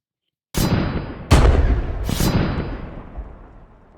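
Three booming explosions in quick succession, each a loud deep blast with a long rumbling decay trailing off at the end.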